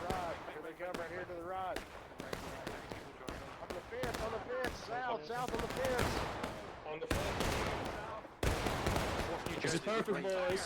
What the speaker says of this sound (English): good shots here from 2nd U.S. Cav